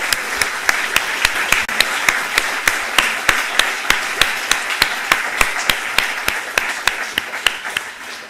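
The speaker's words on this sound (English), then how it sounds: "So let us give them an applause" A crowd at a university launch event applauds continuously, a loud and dense clatter of clapping, while one nearby pair of hands beats out sharp, evenly spaced claps above it from start to finish.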